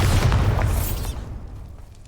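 The Bombarda spell goes off in Hogwarts Legacy as one loud, deep close explosion with crackling debris that rumbles and fades over about two seconds.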